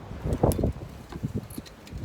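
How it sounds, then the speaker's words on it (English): Wind gusts on a driveway during rear brake work on a VW, producing faint uneven rumbling buffets against the microphone with a few light rustles. "Again, apologies for the wind."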